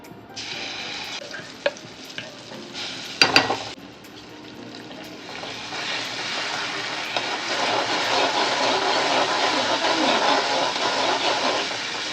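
Masala paste sizzling and frying in hot ghee while being stirred in a pan for ghee roast prawns, a continuous crackling hiss with scraping spoon strokes and a couple of sharp clatters, growing steadier and fuller, no talk.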